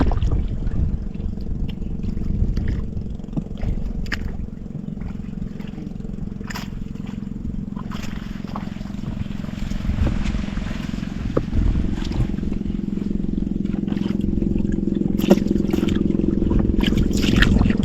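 A motorboat engine hums steadily over water, a continuous low drone lasting throughout with wind buffeting the microphone, the boat approaching from nearby on an outing at sea.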